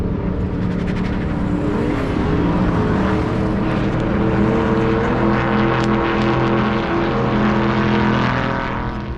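A Toyota Supra engine revs hard and roars steadily as it launches on an autocross course at Nashville Superspeedway, a loud sustained drone with rising tones, no voices.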